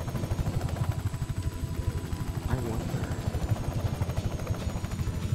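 A helicopter in the Just Cause 3 video game thuds with fast, steady rotor beats at moderate volume, continuous throughout.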